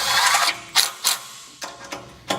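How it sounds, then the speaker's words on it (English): Bolts being screwed in and tightened on a Ryder rack, a run of close metallic ratcheting and clicking bursts at uneven intervals, loud and clear with no talking. "screwing each one in loosely before tightening down completely"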